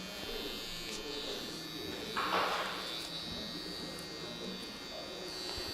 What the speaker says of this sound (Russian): я проверяю, насколько стабильно работает игла